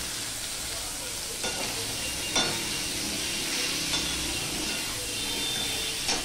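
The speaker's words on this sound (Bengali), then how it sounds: "এই তেলের মধ্যে আমি পেঁপেটা আগে ভেজে নেব" Pieces of papaya fry in hot oil in a pan, giving a steady bright sizzle with occasional louder crackles and stirring scrapes, close by and unbroken by talk.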